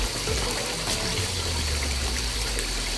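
Water is poured by dipper into tilapia pans beside a settling tank, making a close, steady gushing and splashing pour with no talking.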